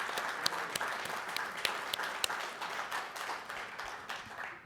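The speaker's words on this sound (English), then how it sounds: "big round of applause for our Corvette Hall of Fame class of 2025" An audience applauds the Corvette Hall of Fame class of 2025 at the National Corvette Museum anniversary roundtable, a sustained, fairly close burst of clapping that tapers off at the end.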